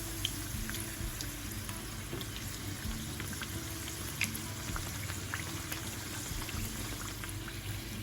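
Turkey empanadas sizzle and crackle steadily in hot oil as the dough browns, a dense, even frying hiss with scattered pops and no voices.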